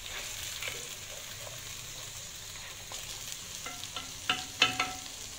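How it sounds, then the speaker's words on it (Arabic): Meat frying in a traditional tagine for Algerian garlic mtewem gives a steady, soft sizzle, with a few sharp clinks and scrapes near the end. "بعد ما نشوفوا اللحم تاعنا بدا يتقلى"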